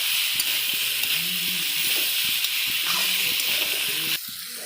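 Broken-up large fish heads fry in a pan with a steady, close hiss and sizzle that runs the whole time, then drops slightly near the end.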